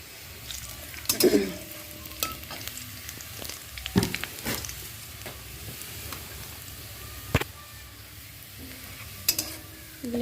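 Chopped garlic sizzles softly in hot oil in a pan for an egg tadka, with a low constant frying hiss broken by sharp clinks and scrapes of a spoon stirring.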